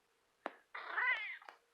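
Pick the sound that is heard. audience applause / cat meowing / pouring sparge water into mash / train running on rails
cat meowing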